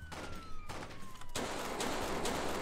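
Rapid gunfire in the Roblox game Jailbreak, set in a prison escape, crackles in dense bursts that fill most of the moment, with a sharp break partway through before the shooting resumes, loud and close.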